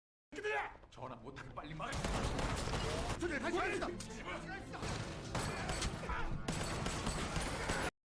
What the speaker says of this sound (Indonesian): Kolonel H dan kelompoknya langsung menembaki para penjaga, hingga Pak Jung terjebak dalam adu tembak